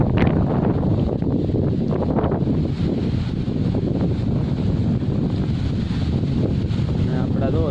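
Strong wind blows across a village, buffeting the microphone with a loud, continuous low roar and rushing gusts that hold steady from start to finish.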